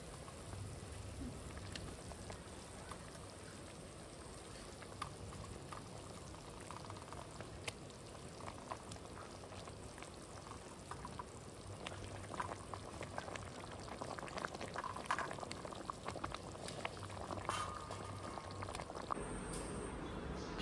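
Pomfret fish curry gravy bubbles away in a pan on the stove, a steady close simmering crackle and bubbling with scattered pops, continuous and fairly quiet, no talking.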